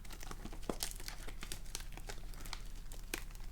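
A Pokémon booster pack wrapper from the Sword & Shield Battle Styles set crinkles and tears open up close, a busy run of crisp foil crackles and rips lasting a few seconds, with no talking.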